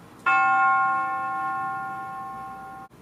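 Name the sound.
dark sounding bell in a music beat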